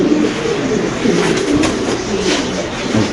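Pigeons coo continuously at close range inside a busy pigeon shop, soft throaty rolling calls overlapping in a dense, loud chorus.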